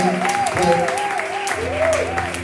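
Church congregation applauding to acclaim God during a French-language service, a loud sustained clapping crowd mixed with cheering voices and a warbling background tone.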